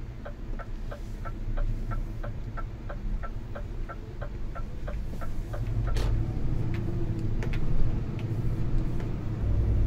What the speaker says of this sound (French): on va laisser passer la voiture qui monte